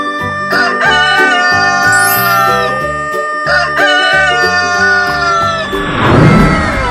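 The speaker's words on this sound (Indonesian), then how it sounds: "Rooster, Ayam jantan." A rooster crows loudly and repeatedly over a bright, upbeat musical backing, with a noisy splash-like burst near the end.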